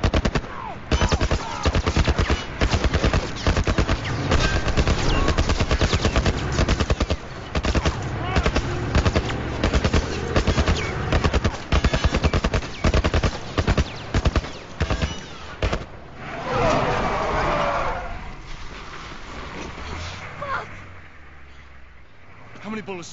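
Sustained automatic gunfire in The Last of Us Remastered, loud, dense rapid bursts over about fifteen seconds that then thin out, with voices shouting over the shooting.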